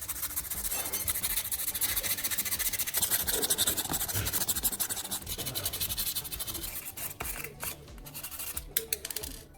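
Sandpaper rubbed along the sharp cut edges of an old LED bulb, giving a close, continuous scratchy rasp with quick back-and-forth strokes that thin out into a few sharper scrapes near the end.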